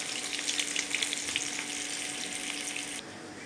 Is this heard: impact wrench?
no